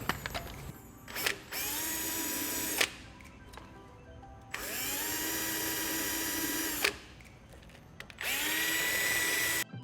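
Power drill boring mounting holes under a Toyota Tacoma near the rock sliders, three loud bursts of high whirring spin-up and sustained grinding with short quiet gaps between them, close by.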